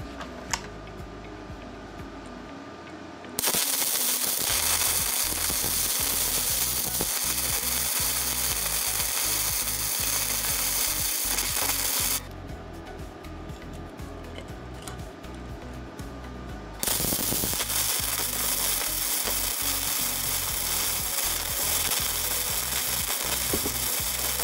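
A DC flux-core welder working aluminum gives a loud, close crackling sizzle in two sustained bursts with a short quieter pause between them.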